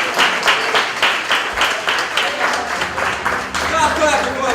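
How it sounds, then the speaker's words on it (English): Audience clapping in a room, steady rhythmic claps throughout with voices and laughter mixed in, fairly loud and close. "Stop clapping before I lock you all up."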